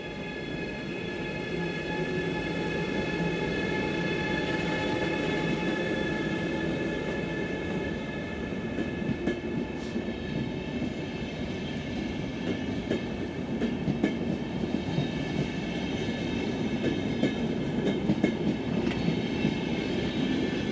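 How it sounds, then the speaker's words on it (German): Long Finnish Pendolino intercity train pulling away, a steady rolling rumble with faint rhythmic wheel clicks and light squeals building gradually, continuous and fairly close. "Das sind Pendolino-Züge. Und er fährt los."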